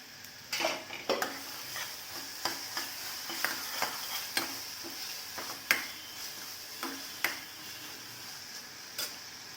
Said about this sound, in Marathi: तेलात चांगला एक दोन मिनटं परतून घ्यायचा तो